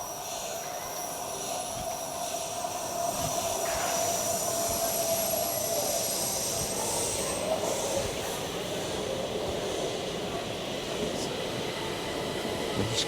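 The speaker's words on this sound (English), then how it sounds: "Northbound train coming in on that track." A northbound metro train rumbles into Hötorget station steadily, its low roar and faint high whine building gradually with no one speaking.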